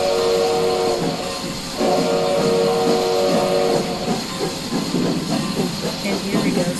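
A Hudson steam locomotive in a train video game, giving a steady loud hiss of steam over a rhythmic rumble and clatter of wheels that runs the whole time, with a speaking voice faintly mixed in.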